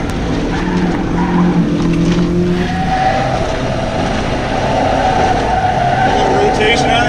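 A stock Mazda Miata corners hard on a track, its engine droning steadily throughout while tires squeal and skid in sustained stretches, loud and close.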